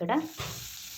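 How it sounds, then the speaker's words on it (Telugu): Cumin, mustard seeds and whole spices dropped into hot oil, a brief burst of sizzling that settles into a faint, steady frying hiss, close and without talk. "ఇదే ఆయిల్లోకి కొద్దిగా జీలకర్ర, ఆవాలు, మసాలా దినుసులన్నీ యాడ్ చేసేసుకుంటున్నాను"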